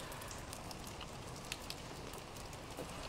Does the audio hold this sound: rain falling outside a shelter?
yes